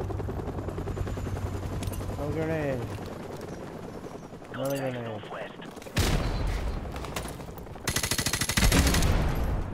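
Gunfire in Call of Duty: Modern Warfare Remastered, with dense bursts and rapid shots late on, layered over a busy game soundscape while someone talks over it.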